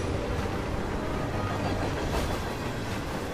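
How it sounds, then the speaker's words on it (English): Steady, even rumble of a train rolling along rails in the video game Hitman 3, a continuous dense roar with no breaks and no voices. "Oh, I'm on the train."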